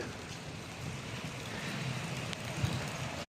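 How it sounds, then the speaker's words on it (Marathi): Steady, soft rain falls during a bicycle ride through a village, a constant wash of patter with no speech over it. "पाऊस चालू आहे"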